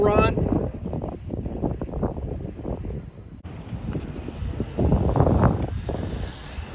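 Fast RC boat on LiPo batteries racing past, a high electric motor whine with rushing wind and water noise; a voice talks over it.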